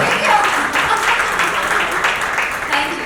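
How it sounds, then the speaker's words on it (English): Audience applause at a promotion event for the film Kathal: steady, dense clapping fills the whole stretch at a constant level, with voices mixed into the crowd noise. "थोड़े जोर से ताली मारो."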